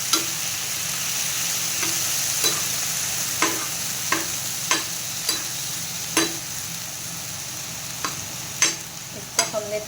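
Chicken with yogurt stirred in a pan, a low continuous sizzle broken by about a dozen sharp utensil scrapes and knocks against the pan at irregular intervals, with no talk.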